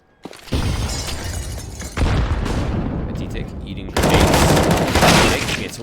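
Grenade blasts and gunfire burst loudly in a tactical shooter match, with dense crashing bursts at the start, around two seconds and around four seconds, and no talk over them.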